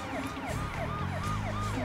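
An ambulance siren wails in a fast, repeating up-and-down sweep, loud and continuous as if heard from inside the vehicle, over a low engine rumble.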